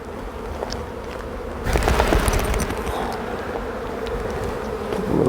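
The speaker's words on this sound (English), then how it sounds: "A little shake of bees there. Maybe one more shake of bees." Honeybees shaken off a brood frame during a beehive inspection give a dense, steady buzzing that swells sharply partway through as the swarm is knocked loose, then continues at a loud, even drone without speech.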